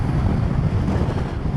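Loud, steady wind buffets the microphone on a Suzuki V-Strom 250 motorcycle ride, a continuous low roar on a cold October day.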